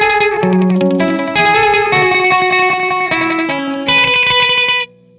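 Electric guitar run through an echo delay pedal: a loud melodic phrase of picked notes, each trailed by exact repeating echoes that overlap and ring on, then cut off abruptly near the end, with no talking.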